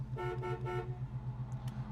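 Horn of a 1969 Chevrolet Camaro sounds in three short, close blasts over a steady idle-like hum.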